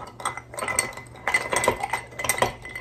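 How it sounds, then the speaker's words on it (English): A spoon stirs bourbon over ice in a glass for a mint cocktail, making close, rhythmic bursts of clinking and rattling with brief quiet gaps between them. "stir it again"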